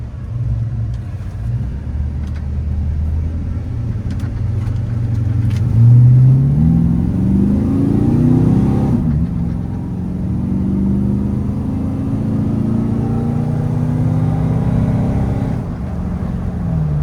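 A 1985 Chevrolet K10 Silverado 4x4 pickup with a 5.3L engine and 4L60 transmission cruises down the road with windows up, a steady close engine rumble and road drone rising briefly as it accelerates.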